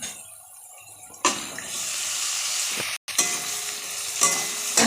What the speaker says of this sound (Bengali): এবার আমি এর মধ্যে মাছগুলো দিয়ে দেবো।